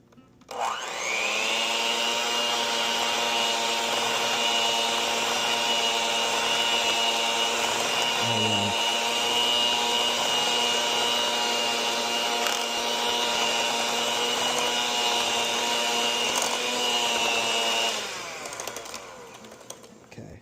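An electric hand mixer whirs steadily and loudly on chocolate chip cookie ingredients for about seventeen seconds, a sustained motor tone with a brief dip in pitch midway, then cuts off.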